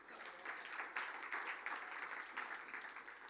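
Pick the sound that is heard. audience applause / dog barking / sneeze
audience applause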